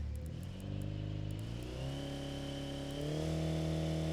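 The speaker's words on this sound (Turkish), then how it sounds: "Bir devir saatini yükseltelim." Simulated car engine in the Automation tycoon game revving up in stepped rises, harmonics climbing as the RPM increases, loud and steady with no talk.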